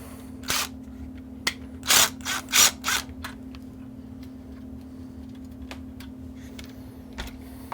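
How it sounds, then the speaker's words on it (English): A ratchet fitted with a deep well socket clicks in short bursts while working nuts on an amateur radio amplifier's filament transformer, with quiet gaps and a steady low hum underneath. "I think it might be time to get ourselves a deep well socket."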